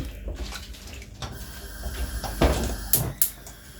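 Half a cup of water poured into a pot of mixed vegetables for a kootu curry with chickpeas, giving a short splash and trickle amid clattering kitchen noise and a few sharp knocks.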